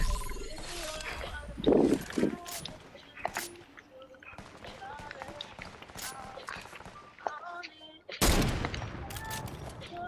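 Gunfire in the video game Fortnite, sharp scattered shots and a couple of loud bursts, while players talk over them.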